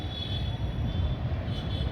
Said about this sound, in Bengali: ওই যে দেখো, এটা আরেকটা ট্রেন চলে যাচ্ছে।